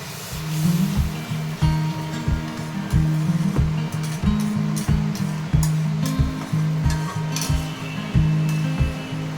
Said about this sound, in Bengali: আবারও একটু ভালোভাবে নেড়ে চেড়ে নেব।